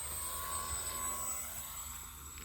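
E-flite Cirrus SR22T 1.5 m RC airplane making a slow pass over a front yard, its faint, steady electric motor whine drifting at a distance with a slight fade.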